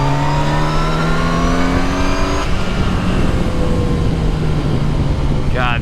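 A 2019 Yamaha FJR 1300 ES sport-touring motorcycle engine revs up through the gears in a parking lot, a loud rising whine that drops at a shift and climbs again beneath steady wind roar.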